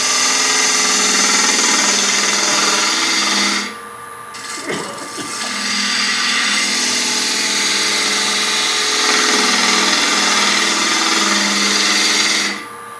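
A wood lathe spins a candy dish blank while a bowl gouge with a parabolic flute shapes it, making a loud, steady whirring drone that drops away briefly in the middle and then resumes.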